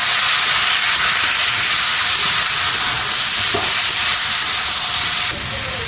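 Vegetables fry and sizzle steadily in a hot pan with coriander and chili powder, a continuous loud hiss throughout with no talk, dropping slightly near the end.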